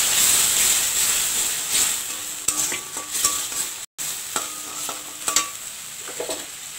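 Cooked-down spice masala sizzles and hisses in a pan after a little hot water goes in, with a spoon scraping and clinking through it in uneven strokes close by.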